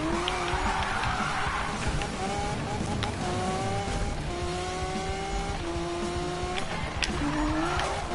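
Video game cars skid through sharp turns, with squealing tires and high revving engines in a continuous loud rush, while a voice talks over the action.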